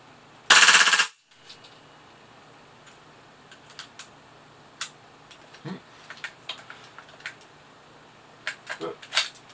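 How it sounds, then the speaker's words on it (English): A WE/EMG Knight's Armament PDW gas blowback airsoft rifle lets off one loud, very rapid burst of about half a second. Scattered faint clicks and handling taps follow, with short gaps between them. "the short bolt travel distance offers the PDW a blistering rate of fire"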